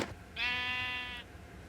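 A single short, nasal bleat from a baby sheep in Minecraft, clear and fairly close, about a second long, with quiet background and no talking.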